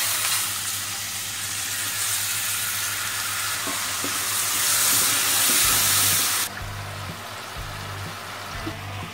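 Water added to hot tempering spices with turmeric in a kadhi pot sets off loud, continuous sizzling and steaming that runs for several seconds, then drops abruptly to a quieter bubbling with some stirring noise.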